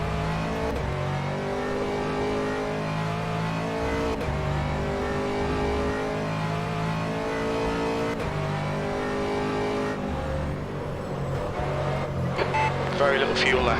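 An Aston Martin race car on a hot lap at Silverstone in a sim racing game, its engine droning loud and steady with rising and falling revs and gear changes throughout, close and continuous.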